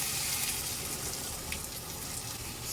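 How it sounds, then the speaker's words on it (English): Water is poured into a thick Ghanaian dish, a soft continuous splashing and trickling that stays faint and steady throughout. "you're going to add 2 ladles of water to decrease the consistency"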